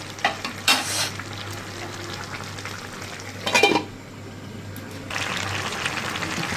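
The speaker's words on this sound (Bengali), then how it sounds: "ঝোল দিয়ে দিচ্ছি।" Small tengra fish cooking in a pan as broth is poured in, a close continuous sizzle with a few sharp bursts and splashes of liquid, moderately loud with a low steady hum beneath, no talking.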